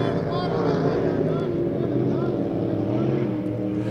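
Powerful boat engines drone steadily throughout, a dense continuous roar of Grand Prix racing motorboats at the 2012 Western Divisionals final, with a faint voice mixed into the background.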